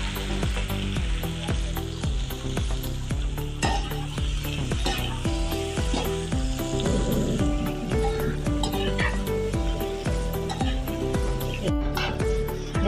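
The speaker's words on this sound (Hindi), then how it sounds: "अब इसको निकाल के इसके अंदर प्याज फ्राई कर लूँ।" Onions frying in oil in a pan for a chicken and bitter gourd (karela gosht) curry, a steady dense sizzle running throughout under loud rhythmic background music.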